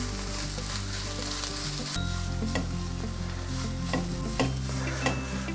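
Ground coconut and masala paste sizzles steadily in a hot pan for cheera chembu thoran, with a few scraping stirs of a spoon through the mix and soft background music underneath.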